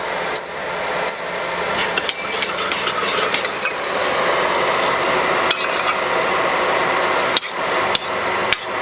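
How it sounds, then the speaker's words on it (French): A teaspoon stirs a cornmeal mixture in a pan over the heat, giving occasional metallic scrapes and clinks against a continuous low sizzling hiss. The sound is moderately close, with no one talking. "Bien mélanger."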